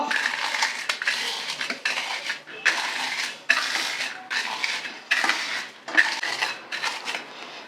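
Dry fruits are pounded into powder with a series of sharp metallic knocks and grinding crunches in an irregular rhythm, close and fairly loud, with no voices.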